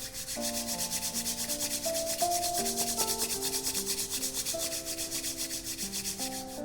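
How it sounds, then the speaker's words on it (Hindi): Two hands rub together hard and fast, a steady, close, rhythmic swishing friction that lasts throughout, layered over soft sustained music tones with no talking. "दोनों हाथों को जोर से रब करें"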